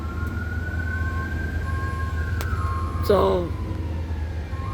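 Ambulance sirens wail outside a community hospital in Riverside on a busy night, a long steady tone with a brief burst of yelping partway through, against a constant low rumble.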